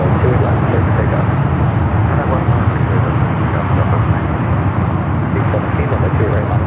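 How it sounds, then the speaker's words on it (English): Southwest airliner taking off from runway 28 left at San Francisco airport, a loud continuous jet engine roar holding steady throughout, with faint radio chatter over it. "Southwest 1982, RNAV 1 runway 28 left, clear for takeoff"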